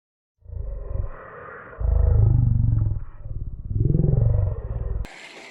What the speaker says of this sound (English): Those wave noises you hear and that waves crashing on the opposite shore you hear is a seal.